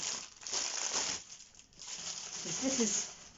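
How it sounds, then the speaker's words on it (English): Crinkly, crackling cellophane rustles steadily at close range, with a brief lull partway through. "You have to excuse the noise from the crackle of the cellophane."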